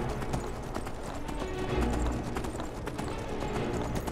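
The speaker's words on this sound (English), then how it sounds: "Come on, Skyrim horse. Go, go, Skyrim horse." Steady clip-clop of horse hooves at a brisk trot, a continuous rhythmic clatter over a dense, busy game soundscape in modded Skyrim.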